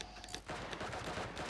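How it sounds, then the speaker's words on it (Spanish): Rapid gunfire crackles in an online shooter match. Sustained bursts of shots rattle continuously and sound fairly distant and muffled. No one speaks over it. "Escuché los tiros."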